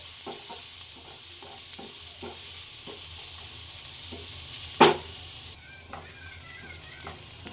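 Onion and curry leaves sauté in a pan for bhakri upma, a soft sizzle punctuated by regular spatula taps and one louder scrape, then the frying quiets.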